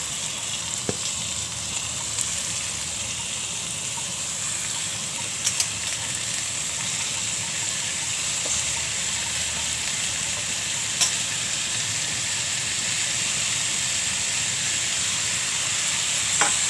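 Spring onion greens frying in a pan, a steady, even sizzle and hiss filling the whole stretch, close, with a few faint clicks and no talk.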